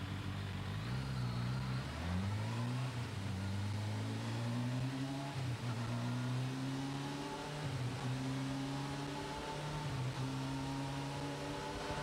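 Motorcycle engine running under load on a Superflow CycleDyn eddy-current dynamometer, a steady droning hum with rising and falling harmonic pitch as throttle shifts while speed is held constant, continuous and fairly close throughout.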